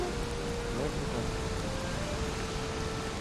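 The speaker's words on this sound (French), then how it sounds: "J'ai dit il pleut là" Steady rain falling in the video game Valheim, an even, constant hiss that fills the whole moment with no talking over it.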